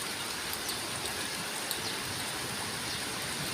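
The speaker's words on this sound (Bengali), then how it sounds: "বাইরে বৃষ্টি হইতেছে, প্রচণ্ড ধরলে বৃষ্টি হইতেছে" Heavy rain pours outside a high-rise home under a dark sky, a dense, even wash of hiss held at a steady, moderate level with no voices.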